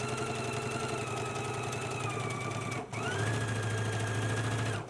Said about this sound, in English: let's go ahead and stitch using a 5/8 of an inch seam allowance.